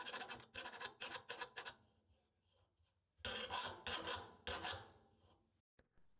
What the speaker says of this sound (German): Die Werkstattfeile hat den Vorteil, dass man sehr kontrolliert arbeiten kann. Meist reichen einige Hiebe auch schon aus.